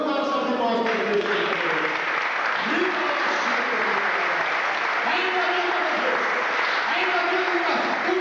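A church congregation claps in praise to God during a service, sustained applause across the whole stretch, with a voice speaking or singing over it.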